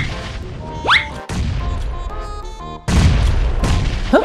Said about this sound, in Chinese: 来，我们用手雷炸他们